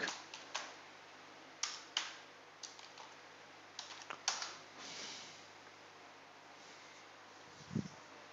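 Clicks and clacks of a computer keyboard while Python code is being typed, irregular bursts of sharp keystrokes separated by short pauses, close and fairly quiet, with a single dull thump near the end.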